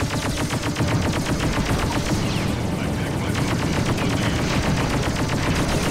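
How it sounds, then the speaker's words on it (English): Rapid bursts of weapon fire from an enemy ship launching mines in the space game Freelancer, a dense, continuous rattling barrage filling the whole stretch at close range. "I think he's shooting mines at me."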